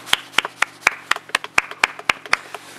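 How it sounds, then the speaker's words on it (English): A few people clap together in a slow, uneven rhythm, about a dozen distinct sharp claps spaced roughly a quarter second apart, close and crisp over a quiet background. "Everybody clap."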